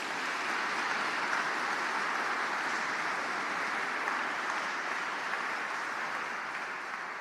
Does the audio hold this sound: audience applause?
yes